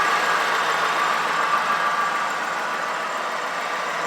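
A 1983 Cadillac engine fitted with a Spectrum dual ram air box kit idles with a steady, even rumble and airy intake hiss, held at a constant moderate level throughout.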